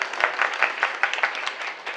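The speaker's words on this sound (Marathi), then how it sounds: "एकदा टाळी वाजवा त्यांच्याकडे" An audience at a kirtan applauding the cymbal players: a short burst of moderately loud, rhythmic clapping at a steady pulse, slightly distant, with no voices over it.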